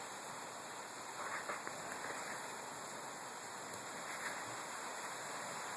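Light rain falling outdoors near a shore, a faint, steady hiss of drops with a few soft patters, no voices.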